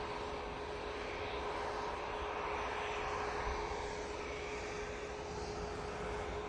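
A KLM airliner on approach to Manchester Airport, its engines a steady, broad roar at moderate distance, holding level without a clear peak and with no talk over it.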